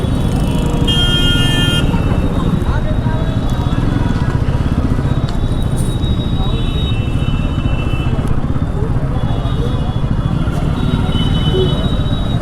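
Dense road traffic crawling toward the gate at Barsana, with engines rumbling steadily and occasional horn toots over a busy crowd, while people talk throughout.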